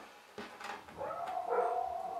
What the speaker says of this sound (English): My dogs are flipping out.